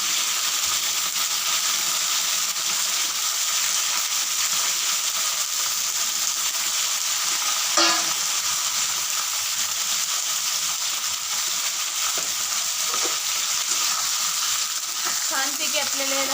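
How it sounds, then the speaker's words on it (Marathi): Eggplant and potatoes fry in a pan with a continuous loud sizzle, broken by a few scraping stirs of a spatula up close. "आता हे फ्राय होत आहे."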